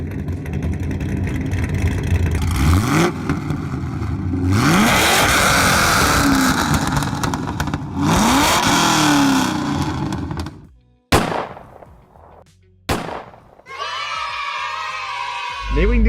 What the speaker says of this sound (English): if you want to hear this thing scream insanely loud